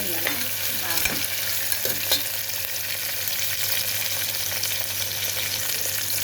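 Moong dal khichdi ingredients with chana dal fry and get stirred in a pan, giving a steady close sizzle with scraping spoon strokes throughout and no voices.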